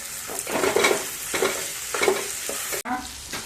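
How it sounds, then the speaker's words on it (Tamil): Onions and garlic sizzling in a hot pan, stirred with a few scraping strokes, the frying crackle steady and close. "வெங்காயம் நல்லா வதங்கிச்சு பூண்டு போட்டேன்"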